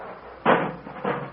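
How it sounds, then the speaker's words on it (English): A car door wrenched off an old Maxwell automobile, staged as a radio comedy sound effect: two close scraping, rattling bursts, the first stronger, over a low hum. "Rochester, put that door back on."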